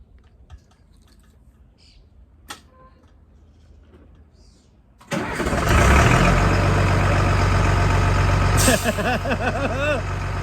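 An FMTV military truck engine started by remote starter cranks and catches about halfway through, then settles into a loud, steady diesel idle; quiet ambience with faint birds comes before it.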